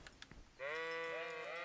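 A sheep in the medieval game Kingdom Come: Deliverance gives one sustained, wavering bleat that begins abruptly after a few faint taps and carries on clearly to the end.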